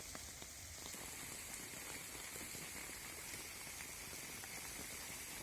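Steady monsoon rain falls over flooded city streets in Patna's Kankarbagh area. It makes a dense, even hiss of drops on hard surfaces that continues without a break and stays moderately loud throughout.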